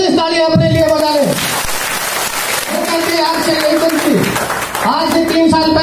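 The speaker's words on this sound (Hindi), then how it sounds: "दोनों हाथ ऊपर करके जबरदस्त ताली अपने लिए बजा ले" An audience at a Hindi-language RCM Business motivational seminar bursts into loud clapping with both hands raised. The burst is brief and sits between stretches of a man's amplified speech.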